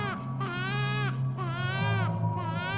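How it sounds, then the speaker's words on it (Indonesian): An infant cries in a sound effect for an Indonesian horror audio drama, wailing continuously in rising and falling sobs over a low, steady drone. "Rina kembali mendengar suara tangisan bayi"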